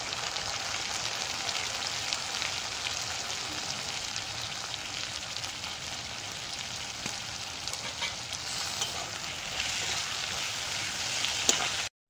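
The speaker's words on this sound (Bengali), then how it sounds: "এবার এর মধ্যে চিংড়ি মাছ দিয়ে লবণ হলুদ দিয়ে হালকা করে আবার কষিয়ে দেবো" Shrimp sautéing in hot oil with onion, garlic, salt and turmeric, a dense continuous sizzle and crackle close up, steady throughout with occasional stirring scrapes and no talking.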